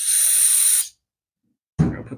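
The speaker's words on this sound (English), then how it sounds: "Spray it out." Aerosol brake cleaner hisses from a can nozzle into a grimy brake caliper, a sharp steady spray for under a second, then silence before a brief clatter of handling noise.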